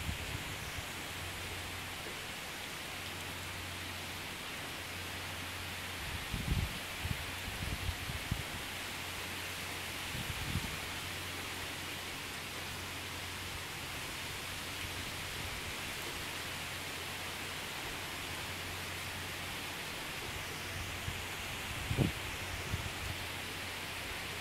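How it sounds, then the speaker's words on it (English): Heavy rain pouring during Tropical Storm Bertha along a coastline, a dense, constant roar of downpour that fills the whole stretch evenly, with a few low rumbling thumps breaking through and no voices. "This has been raining like this for at least 40 minutes."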